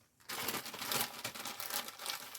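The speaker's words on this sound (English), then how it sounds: "I squeeze out as much air as I can and just zip them up." Plastic tea storage bags crinkle and rustle up close as air is squeezed out and they are zipped shut, a short burst of dense crackling after a quiet start.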